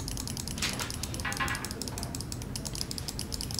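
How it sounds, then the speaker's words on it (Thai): Button clicks from a Redragon Cobra gaming mouse sound up close in quick irregular runs, sharp and light, over a faint background hiss. "เราฟังเสียงของตัวเมาส์กันเลยดีกว่า"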